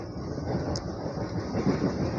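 A train rumbles steadily at a commuter railway station in Indonesia, a continuous loud low roar with faint clattering and no voices.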